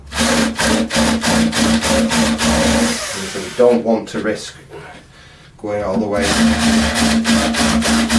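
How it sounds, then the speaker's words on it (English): A cordless battery drill bores into scrap wood while building a saw stand, a loud steady motor whine with rhythmic pulsing that cuts out midway, pauses with handling noise, then resumes; someone talks over it. "drilling into the wood"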